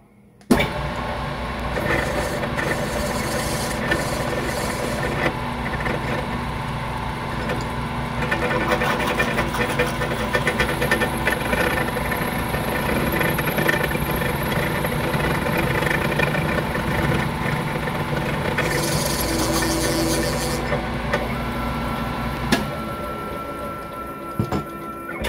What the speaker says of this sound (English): Drop the speed down to 375 for the reamer. We're going to go half an inch deep.